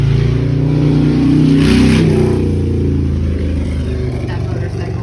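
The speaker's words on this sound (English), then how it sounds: "That motorcycle go by." A loud motorcycle roars past nearby, its engine note swelling and then fading over a few seconds, while a voice talks faintly in the background.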